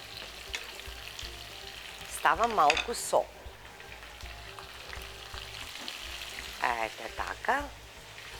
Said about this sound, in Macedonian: треба заедно да се пржи со кромидот, колку малку да омекне